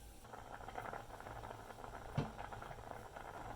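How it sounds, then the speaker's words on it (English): Margarine and garlic simmer in a pot, giving a faint, steady bubbling with soft pops and one brief louder knock. No one talks over it. "Then I add the margarine. Then I'll add garlic. And then I'll let it simmer."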